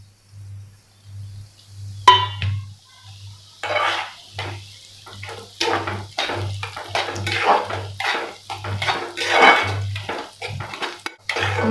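Mustard seeds and dal roast in a pan as a spoon scrapes and stirs, for a traditional raw mango pickle. Repeated metallic clinks and scrapes come close up and alone over a faint low hum.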